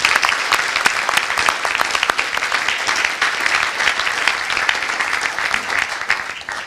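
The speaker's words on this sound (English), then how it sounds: "we just give them a collective round of applause for all that they've done" A conference audience claps together at closing remarks, honouring panelists with a steady, dense round of applause that holds evenly throughout.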